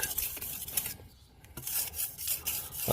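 A blade or tool being worked back and forth on a wide natural sharpening stone about 8 by 2.2 inches, with repeated short scraping rasps that pause briefly in the middle, close and fairly quiet.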